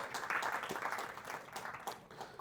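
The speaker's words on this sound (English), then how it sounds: "a big round of applause to all of you here today" An audience at a health tech talk gives a quiet round of applause, a soft, steady patter of clapping heard from some distance for a couple of seconds.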